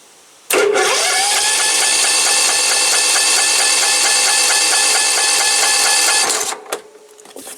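A small engine is cranked right after a fuel pump swap, giving a loud, steady whirring starter drone close by for about six seconds without catching, then cutting off.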